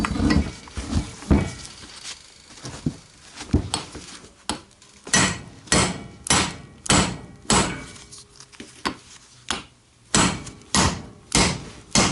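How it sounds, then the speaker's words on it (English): Repeated metallic hammer blows strike a Harbor Freight press to knock out an SRT4 bearing, about a dozen sharp clanging hits close by in a steady rhythm with brief pauses between. "I'm going to smack it with a hammer, and that's going to knock that center piece out."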